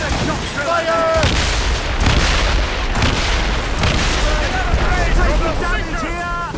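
Ship cannon fire in Assassin's Creed Rogue during a naval battle, repeated heavy booms rolling over a loud continuous sea and battle roar, with shouted crew voices on top.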